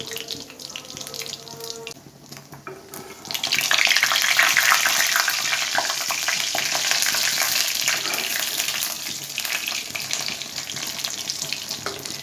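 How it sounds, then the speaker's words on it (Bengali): An egg fries in a pan with a dense, hissing sizzle that swells suddenly and stays loud and steady, following a quieter stretch with faint kitchen clatter; no talking. "এখন আমি ডিমটা ভেজে নেব,"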